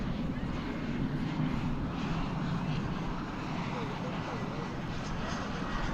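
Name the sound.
Turkish Airlines jet airplane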